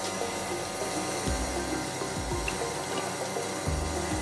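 Water rushing through a Lelit LSM100E espresso machine during a backflush cleaning cycle, a steady hiss of flow with low pump hum and a few thuds and clicks, close and continuous.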